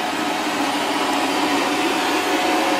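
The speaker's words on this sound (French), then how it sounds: "Qu'est-ce qu'il fait l'aspi? J'ai l'impression que ça fait 1 heure qu'il tourne au même endroit." A robot vacuum cleaner churns on a rug with a loud, steady broadband whoosh of suction and brush noise, close and continuous with no one speaking.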